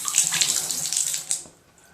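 A Price Pfister bathtub faucet gushes water into the tub, a bright, hissing rush close by that tapers off near the end.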